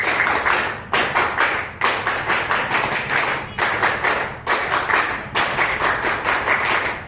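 A sixth-grade class claps in a quick, steady rhythm, pausing briefly between bursts, loud and close with no talking over it.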